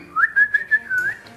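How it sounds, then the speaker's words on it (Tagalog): A person whistles a short, bright rising note that holds steady for about a second, calling pet African lovebirds, clear and close with no talk. "Tingin sila, nung pumito ko."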